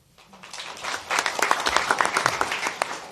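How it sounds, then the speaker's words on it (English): A committee meeting audience at the University of Louisiana breaks into applause after a brief quiet start, the claps growing to a moderate, busy patter of many hands. "Please, no applause."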